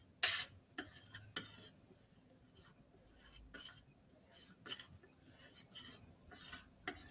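A spatula folds a cosmetic mixture with pigment, making soft, close scraping and smearing strokes that come in short repeated bursts with quiet gaps between.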